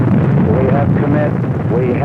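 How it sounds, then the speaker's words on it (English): Apollo 8 Saturn V rocket lifting off, heard as a loud continuous roaring rumble with wind-like buffeting, steady throughout with faint tonal sounds above it. "We have liftoff."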